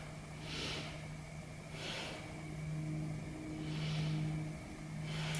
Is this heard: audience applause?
no